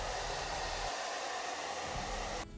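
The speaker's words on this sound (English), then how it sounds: "I just went over it with the blow dryer just a little bit more, a little bit longer, just to make sure" A blow dryer runs steadily while drying hair, a loud continuous whirring that cuts off abruptly near the end.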